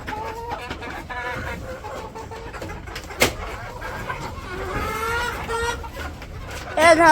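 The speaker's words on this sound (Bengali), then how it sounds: "মুরগির খামারে ঢুকলে পারে মুরগিতে এরকম শুরু করে" Agitated chickens on a poultry farm cluck and squawk in scattered, overlapping bursts, near and moderately loud, with a sharp knock midway and a louder flurry of cackling at the end; a voice speaks faintly beneath.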